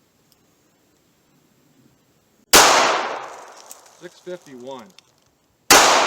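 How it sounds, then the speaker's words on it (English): Two loud, sharp .38 Special revolver shots from a lightweight Smith & Wesson 342 PD, one midway and one at the end, with a brief spoken phrase after the first. "I'm going to start with the 38 Special through the 342 PD Smith & Wesson"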